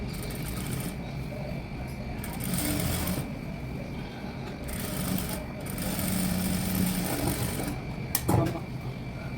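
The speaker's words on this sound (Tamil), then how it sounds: "கேன்வாஸ் மேலே தான் நீங்கள் ஸ்டிச்சை போடணும்." A sewing machine stitching onto canvas, a steady close mechanical whir that runs on and off in stretches with short pauses between runs.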